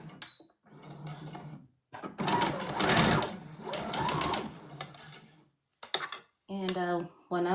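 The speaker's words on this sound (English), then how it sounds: "And when I'm sewing, I just sew right over my needles." A sewing machine stitching a size 16 dress made from the Burda 6442 pattern, running right over pins, comes in bursts of steady whirring that start and stop between pauses, with a voice speaking over part of it.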